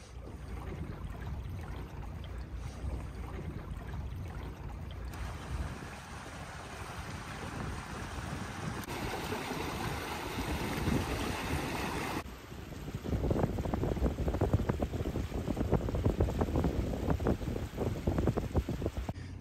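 A Mystere 5.5 sailboat glides in very light wind, with steady wind rush over the microphone and soft water washing along the hull, continuous and fairly close, growing a bit louder toward the end.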